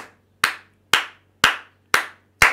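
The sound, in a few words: congregation applauding in church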